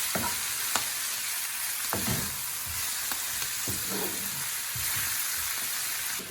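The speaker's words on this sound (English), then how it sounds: "and then I'm going to just add in the aubergine." Aubergine frying with methi saag in a pan, a soft continuous sizzle broken by scraping stir strokes at irregular intervals, close and fairly quiet with no talk.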